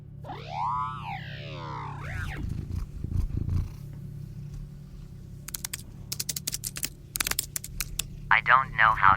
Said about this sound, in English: That's my cat in your lap.